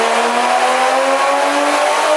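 An A90 Toyota Supra, otherwise stock but fitted with a downpipe, accelerating hard with a loud rising exhaust note and climbing engine tone, close and continuous with no talk.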